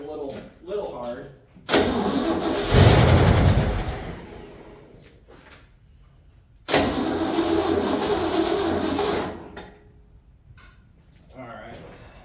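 A Ford Bronco engine cranks and fires in two loud bursts separated by a quiet pause, each burst a rough churning roar that then cuts out, with someone talking in between.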